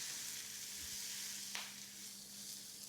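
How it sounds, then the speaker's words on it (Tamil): Shallots and curry leaves sizzle in hot oil with popped mustard seeds in a pan, a steady crackling fry throughout, with a brief louder burst of spitting in the middle and no voices. "ஒரு கடாயில் எண்ணெய் சூடானதுக்கப்புறம் அதில் வந்து கடுகு பொரிஞ்சு வரும்போது சின்ன வெங்காயம், கறிவேப்பிலை, தேவையான அளவு உப்பு போட்டுட்டு"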